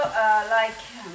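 Garlic frying in a soup pot, a soft steady sizzle with faint crackle running throughout, close and moderately loud, with a few tonal clinks over it.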